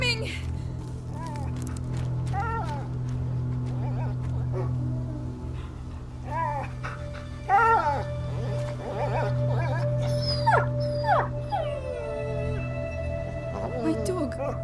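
A dog whimpers and howls in A Plague Tale: Innocence, wavering cries rising and falling over a low steady drone, with an occasional sharper yelp.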